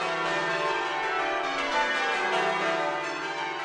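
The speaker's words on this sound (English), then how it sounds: "It is the English style of ringing that you'll hear." Church bells ring in the English change-ringing style, a continuous overlapping peal with a steady, even pulse. No voices are heard.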